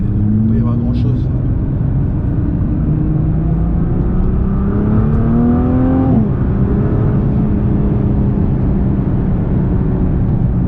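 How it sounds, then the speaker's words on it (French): A Nissan GT-R Nismo accelerates hard, heard from the cabin as its engine note sweeps upward, drops sharply at a gear change, then settles into a steady drone. Exhaust rumble sits underneath, and a voice talks over part of it. "à chaque fois qu'on accélère, on se sent porté par une vague, et en modèle R en plus il y a vraiment des bruits d'échappement très sympas"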